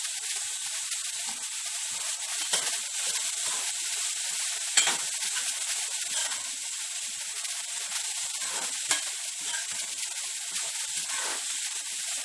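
Vegetables for upma frying in a hot pan with a pinch of salt, a steady close sizzle running throughout with occasional faint stirring clicks and scrapes.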